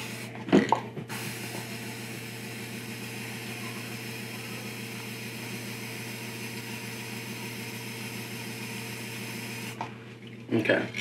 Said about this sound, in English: I'm going to decant it, which simply means spraying into a cup